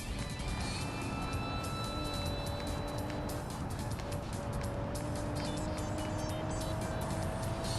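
An all-wheel-drive Audi A6 in BeamNG held at full throttle, its engine roaring loudly and steadily with a rising whine as revs climb, close and continuous.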